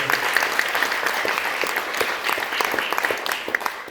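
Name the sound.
audience applause at theater concert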